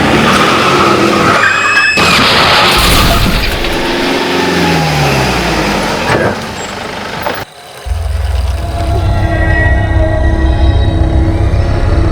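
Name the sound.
car tires skidding in a near collision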